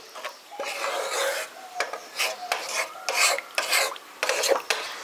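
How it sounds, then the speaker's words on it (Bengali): Wet masala being stirred with water in a pan for a village-style Bengali dahi pabda fish curry, heard as repeated rasping scrapes of a spoon against the pan in uneven strokes, close and fairly loud, with no talking. "জলটা দিয়ে ভালো করে মিশিয়ে দিচ্ছি।"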